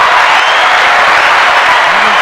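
Broad, steady applause from a group fills the whole moment, a dense wash of many hands clapping at once with no pauses and no clear single claps standing out.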